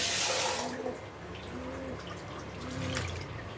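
Water is poured into a pot of young jackfruit pieces for biryani, a steady, moderately loud pour that runs for a few seconds with no voices.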